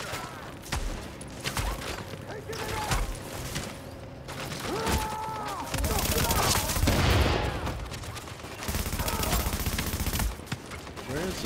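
Heavy gunfire rings out in The Division, a tactical shooter game, with repeated sharp shots and automatic bursts over a busy mechanical backdrop, broken by brief game voice lines.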